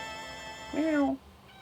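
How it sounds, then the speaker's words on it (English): A pet cat gives a single short meow with a rising and falling pitch, close and clear over a quiet electronic game-music background. "My cat, ladies and gentlemen."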